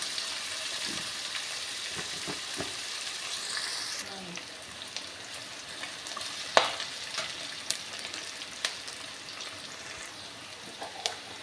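Sliced onions frying in a pan for a pumpkin curry, a steady bright sizzle running throughout with several sharp clinks and scrapes of a spoon as they are stirred, fairly close and moderately loud.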